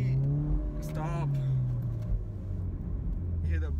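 Engine of a manual Camaro revving and building boost inside the cabin, a steady rumbling drone with rising and falling pitch, while people talk excitedly over it.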